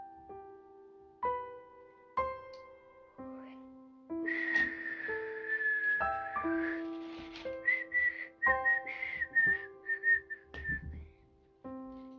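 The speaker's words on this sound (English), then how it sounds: "It's just me whistling." A person whistles a wandering made-up tune up close, with sustained notes and a few soft breaths and bumps in between.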